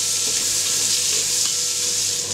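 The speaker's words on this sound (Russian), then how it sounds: "Опять включаю секундомер и засекаем, сколько обжариваем грибочки." Mushrooms frying with bacon in a pan for bigos give a loud, steady, close sizzle that hisses without a break, with faint stirring underneath.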